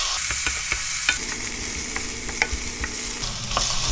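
Potato slices frying in a pan for a Korean stir-fry: a loud, constant sizzle with light scraping strokes and clicks as they are stirred, close up.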